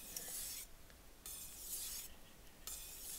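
Shun kitchen knife stropped on a polishing whetstone, about five soft, broad rasping strokes in an even back-and-forth rhythm, quiet and close, with no talk.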